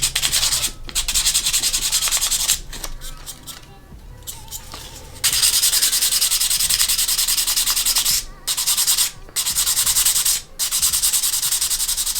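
Bondo body filler being sanded down over a repaired seam, a steady close rasping scrub that runs almost continuously with a few brief pauses, no talking.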